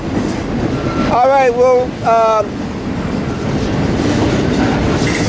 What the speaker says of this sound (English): Most of this train is a container train.